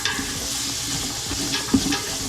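Green chili stew being stirred in a pot makes a brief, close bubbling sizzle with soft scraping strokes and a single sharper knock near the end.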